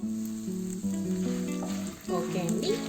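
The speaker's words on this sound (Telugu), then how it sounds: "ఇవన్నీ కొద్దిగా ఒక 5 నిమిషాలు దూరగా వేయించుకోవాలి. మీడియం ఫ్లేమ్లో పెట్టుకొని" Chutney ingredients fry in a pan on medium flame, with a soft crackle and sizzle and a few short stirring scrapes. A steady tonal hum runs underneath.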